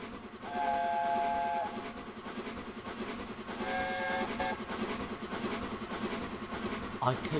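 Locomotive whistle in the Train Simulator 2021 game on a Mid-Devon run, two blasts of a harmonic multi-tone horn sounding over the steady rumble and clatter of a moving train, with a short sharp clank near the end.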